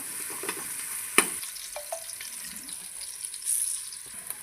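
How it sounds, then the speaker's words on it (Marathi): Onions fry in hot oil with a faint, steady hiss, broken by a single sharp clink of a utensil, close and quiet. "तेल गरम झालेलं आहे त्यात आपण कांदा भाजून घेऊया"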